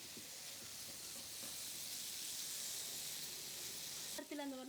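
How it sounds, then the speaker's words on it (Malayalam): Paneer pieces frying in a pan of oil for a Kerala-style paneer butter masala, giving a steady close sizzle that runs throughout, ending in a brief clatter at the close. "ഞാനിതിലേക്ക് ഈ പനീർ ഒന്നിടുവാണേ. ഒന്ന് ചെറുതായിട്ടൊന്ന് ഫ്രൈ ചെയ്തെടുക്കാം എന്നോർത്തിട്ടാ."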